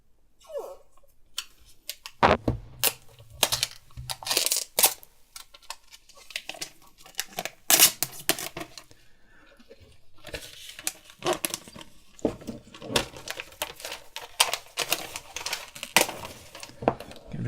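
Plastic wrap is peeled off an iPhone X box, giving close, crisp crinkling and tearing rustles in irregular bursts, with quiet gaps between handling noises.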